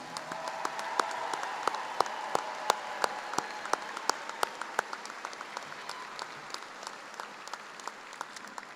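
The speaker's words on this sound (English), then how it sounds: "You can go ahead and give them a round of applause." Applause for spring graduates at a university commencement ceremony, a steady wash of crowd clapping with sharp individual claps standing out close by, tapering slightly toward the end.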